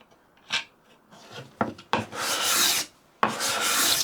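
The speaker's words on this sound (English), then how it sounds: "we're taking an even finer shaving" A scraper plane drawn across a wooden board takes fine shavings in a series of close, raspy scraping strokes: two short quick passes, then two longer sustained ones separated by a pause.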